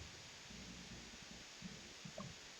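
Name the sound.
heavy rain and thunder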